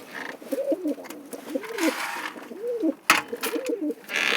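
A pigeon coos repeatedly nearby, soft rolling calls in a loose rhythm, with light scuffing and rustling around it.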